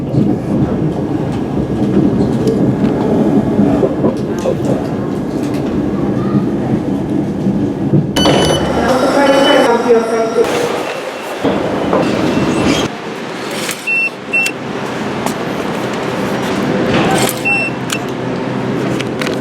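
A full London train in motion, heard from inside, with a steady low rumble and rhythmic clickety-clack, brief louder rattling and squealing midway, and faint voices in the carriage.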